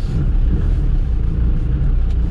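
A Land Rover Defender 110 drives away from a campsite toward Lesja in Norway, its engine and road rumble steady and close with no talk over the drone.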